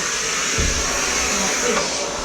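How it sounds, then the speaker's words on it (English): A household vacuum cleaner runs with a steady broadband whir, pulled along behind someone moving through a home and into a bathroom; a brief low thump sounds partway through. "Drag the vacuum cleaner behind you"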